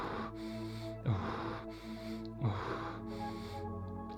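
Rapid rhythmic breathing during a Wim Hof breathing exercise, deep sharp inhales followed by relaxed exhales in a steady cycle, close and fairly quiet over a soft background drone.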